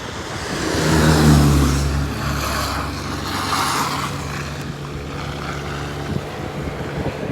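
A car pulling away on a snowy road during the first snowfall near Moscow, engine rumbling up loudly then settling into a steady drone, with wind buffeting and tyre noise.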